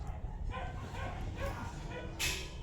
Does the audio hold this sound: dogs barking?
yes